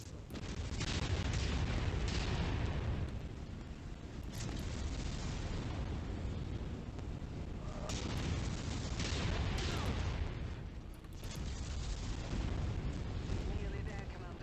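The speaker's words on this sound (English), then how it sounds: "Incoming missile." Missile explosions in the modded MechWarrior 5: Mercenaries video game: a loud, continuous rumbling barrage with heavier booming bursts swelling every few seconds.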